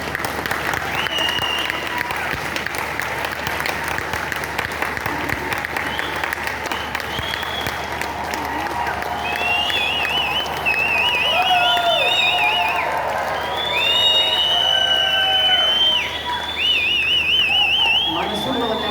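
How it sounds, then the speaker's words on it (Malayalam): Audience applause at a NEXUS 2025 seminar hall, a steady dense clatter of many hands lasting the whole stretch, with bursts of whistling and cheering rising over it toward the end. "കൈയടിച്ചാൽ നിങ്ങൾക്ക് കൊള്ളാം."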